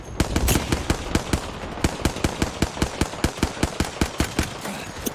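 Rapid, evenly spaced gunshots from a weapon in Apex, a loud sustained string of sharp cracks firing several times per second throughout, close and without speech.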